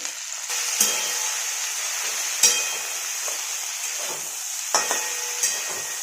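Okra (bhindi) cooking in a pan on medium gas, a steady close sizzle with occasional sharp scrapes and knocks of a spoon stirring against the pan.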